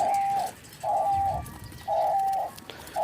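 A male diamond dove gives four steady, even coos at close range, each about half a second long with short pauses between them. No one speaks.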